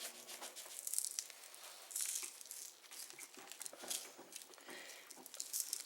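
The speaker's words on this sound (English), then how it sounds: "use the rub and push it in and rub it around" Hands work a dry rub into a raw pork tenderloin, giving quiet, close rustling and squishing strokes in an irregular rhythm, with no voices.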